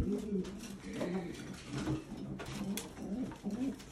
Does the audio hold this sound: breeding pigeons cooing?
yes